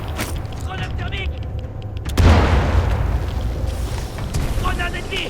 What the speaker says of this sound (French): Grenade thermique.